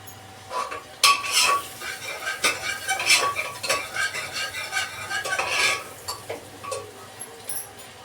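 Onions frying in a pan until brown for a home-cooked meal, with repeated scraping and clinking of a utensil stirring against the pan over a soft background sizzle, close and fairly loud, no talking.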